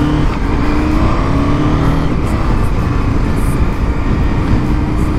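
A KTM 1290 Super Adventure motorcycle pulls hard under acceleration, its loud, steady engine roar rising through gears with a quick-shifter, heard close up and continuous with no talk.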